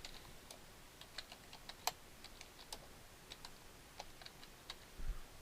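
Light typing on a computer keyboard, scattered soft key clicks in an uneven rhythm, faint and close in a quiet room.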